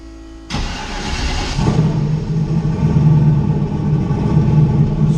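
A Chevstang with a cam and 1500cc injectors cranks and fires up, the engine catching with a sudden loud burst that settles into a steady, smooth, rumbling idle close by.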